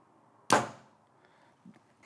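A Hoyt RX-8 Ultra carbon compound bow is shot, giving a single sharp, close release thump that dies away quickly, followed by a faint, dull knock.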